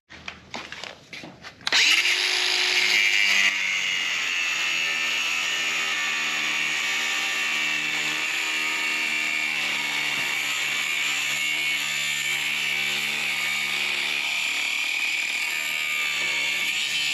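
Power tool cutting through a seized shaft on a small manure spreader: a steady, loud high-pitched whine with a sharp start after a brief bit of clatter, holding constant with a rough grinding edge to the end.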